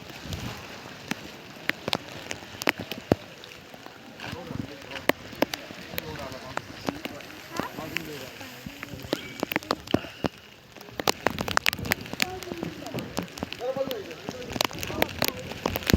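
Rain falls at Raigad fort in scattered pattering drops and sharp taps on surfaces, with some people's voices mixed in throughout.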